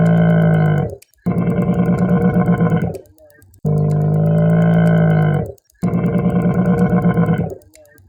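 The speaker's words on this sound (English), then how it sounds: "It's a camel." A camel gives four long, loud, guttural roaring groans, each a couple of seconds long and separated by brief pauses.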